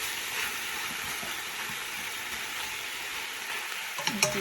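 Chicken frying in a pan with onion, ginger and garlic marinade, a steady close sizzle with soft stirring scrapes and a few sharper clinks near the end, no voices.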